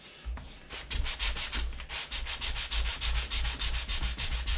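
Hand sanding a Star Destroyer model stand, with sandpaper rubbed back and forth in steady rapid strokes. The scratchy rasp is close and even and continues without a break, and no one talks.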